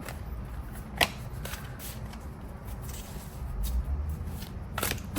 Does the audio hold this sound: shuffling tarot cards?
yes